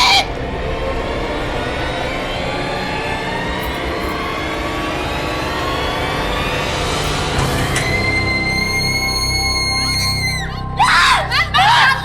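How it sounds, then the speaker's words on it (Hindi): A woman screams loudly and continuously in a tense horror scene, the cry rising and wavering over several seconds before breaking into sharper, strained bursts near the end. "आप इतना चीख क्यों रही थी?"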